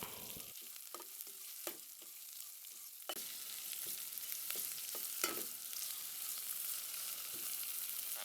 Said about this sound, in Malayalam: ഉള്ളി നന്നായി ഫ്രൈ ആകണ്ട, വഴണ്ടു വന്നാൽ മതി.